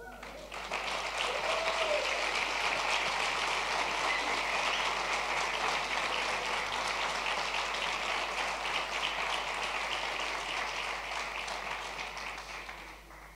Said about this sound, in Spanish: Ahí yo le daría un aplauso al Señor